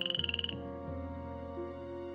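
A frog croaks in a rapid burst of short, pulsing calls over about half a second, then gives way to a steady tonal background.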